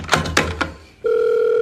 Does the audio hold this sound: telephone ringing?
yes